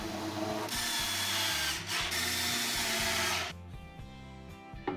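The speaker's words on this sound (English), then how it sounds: "Now I can just add some screws, which will lock that in place so it can't turn." A power drill drives screws into a wooden crosscut sled, whirring loudly and steadily for about three seconds, then winding down into softer mechanical rattling.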